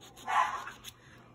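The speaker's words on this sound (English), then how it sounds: "Be quiet, dog." Dogs barking, a single short, fairly faint bark from a little distance in an indoor setting, followed by quiet.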